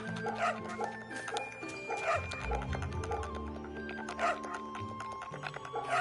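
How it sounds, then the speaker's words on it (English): A dog barks a few times inside a samurai video game, the yips mixed into a dense layer of game music and ambient effects, with some quiet talk alongside. "There's a doggy."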